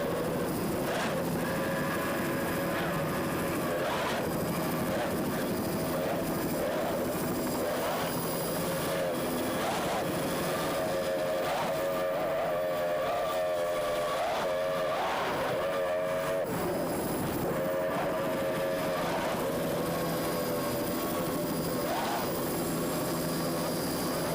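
Loud, continuous engine roar from three 2.5 BFI outboard motors on a 25-foot racing powerboat at the 1993 Islamorada Budweiser 100 race, a sustained droning whine with shifting pitch, running without pause.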